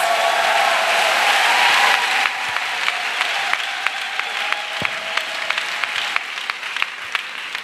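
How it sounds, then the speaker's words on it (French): A church congregation claps for Jesus Christ during a sermon, a loud, dense round of applause that thins into sharper, rhythmic claps toward the end. "Clap for Jesus Christ."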